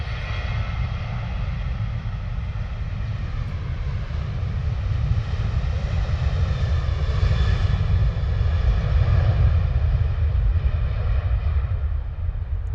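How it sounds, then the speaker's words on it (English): A Ryanair Boeing 737 departs London Stansted Airport bound for Frankfurt. Its jet engines make a loud, continuous roar that swells gradually toward the middle and stays strong to the end, with no talking. "we have Ryanair heading out the door off to Frankfurt this morning, Boeing 737"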